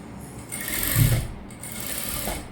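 A sewing machine stitches around the neckline of a full-circle gown made from an old saree, a short rattling run that swells, pauses briefly and resumes, fairly close with no talking.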